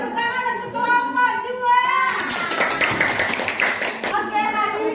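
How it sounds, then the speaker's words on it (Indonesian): Children in a classroom clap for a group, a brief scattered burst of small hands clapping between stretches of a teacher and kids talking. "Tepuk tangan untuk kelompok"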